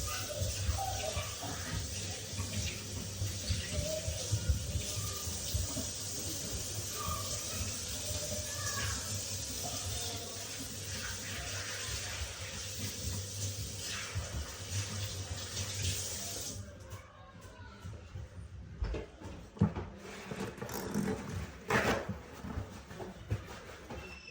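Tap water runs steadily into a kitchen sink while hands are washed after carving a Thanksgiving turkey, a continuous close splashing stream that cuts off near the end, leaving a few faint handling clatters.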